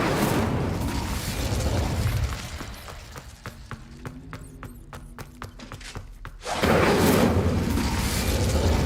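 An Incendio fire spell cast in Hogwarts Legacy roars as a loud, broad whoosh of flame, drops away into a quieter stretch of rapid ticking, then surges back into a sustained blaze.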